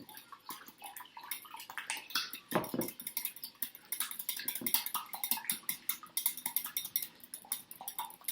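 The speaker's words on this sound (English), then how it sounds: "And whisk your eggs" A whisk beating eggs in a bowl, a quick, irregular run of close metallic clicks and scrapes, broken by a single heavier clank.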